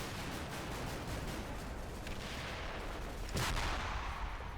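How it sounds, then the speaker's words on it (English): Mortar round explosion in the war game CMBS, a single sharp burst midway through a dull, continuous rumble of distant battle noise. "Oh, that's just a mortar round, actually."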